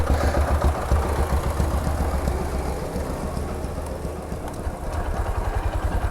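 A Honda SP Shine 125 motorcycle idles close by, a steady low throbbing putter with even pulsing that holds throughout without revving and with no one talking.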